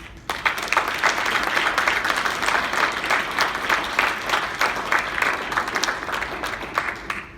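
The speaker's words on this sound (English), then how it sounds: "Please give these officers a round of applause." Audience at a Commissioned Corps officer basic course graduation gives the new officers a sustained round of applause, dense clapping rising quickly and holding steady before tapering slightly.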